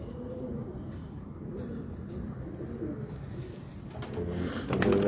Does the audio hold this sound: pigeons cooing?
yes